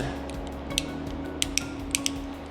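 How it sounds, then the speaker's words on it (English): A ratchet on a dehumidifier hang kit being turned by finger to pull rope around a gear, giving a run of sharp, close ticks and clicks over a steady mechanical hum. "just use our finger to move the ratchet around. That'll pull the rope around the gear"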